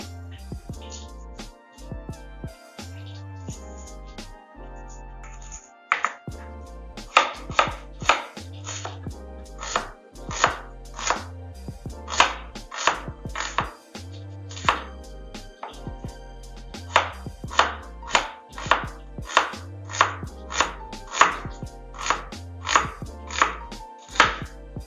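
A knife chops garlic and onion on a board in quick, steady bursts of sharp, close knocks, with short pauses between runs; no one speaks.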